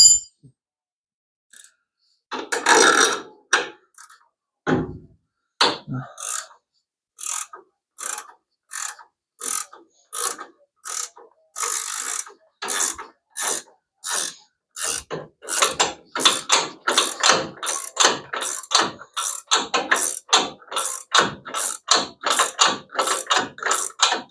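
A ratchet wrench releases front spring tension on a 1934 Plymouth coupe, with loud, close clicking strokes in a long series that speeds into a rapid, steady rhythm and no voices.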